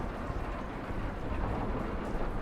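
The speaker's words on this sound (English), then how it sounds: "any of you ever get caught in a storm that sounds this bad?" A heavy thunderstorm, with steady loud rain pouring down and low rumbling thunder throughout, close and continuous.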